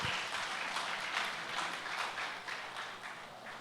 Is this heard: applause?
yes